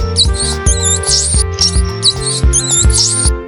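High, thin mouse squeaks chirp in quick bursts, several in a row, over a steady low musical backing.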